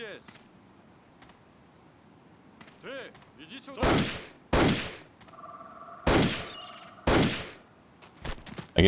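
Gunfire in the video game Indiana Jones and the Infernal Machine: several loud, sharp shots at irregular intervals, separated by quiet stretches with faint clicks, ending in a quick cluster of closer cracks.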